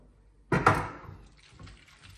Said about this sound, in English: Now I add a little more of water.